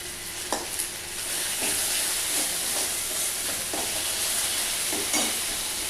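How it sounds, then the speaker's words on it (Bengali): Ginger-chilli paste fries in a pan with a dense, steady sizzle. Soft, regularly spaced stirring scrapes sound close by, with no voices. "আদা লঙ্কা বাটাটা পুরো ভাজা ভাজা হয়ে গেছে।"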